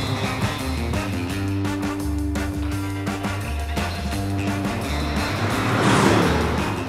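Bugatti Chiron driving off a German motorway onto an exit ramp, a steady low engine drone inside the car with tonal hum, swelling briefly louder near the end.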